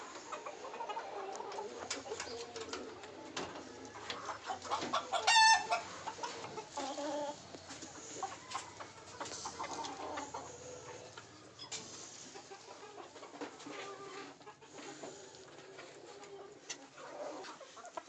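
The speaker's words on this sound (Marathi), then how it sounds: "आता मित्रांनो तुम्ही आपल्या प्युअर गावरान पक्षी बघू शकता" Desi free-range village chickens cluck and call throughout a poultry farm, a continuous soft chorus of clucks and occasional louder squawks at moderate distance with no talking.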